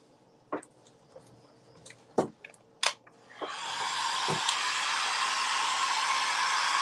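A hot air tool switches on and blows steadily to dry decoupage paper, a loud continuous rushing hiss that follows a few brief handling taps and clicks.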